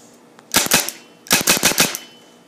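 Tippmann 98 Custom paintball marker fired outdoors in two loud rapid bursts, first about four quick pops, then a pause and a longer string of six or so sharp shots, close to the listener with no talking.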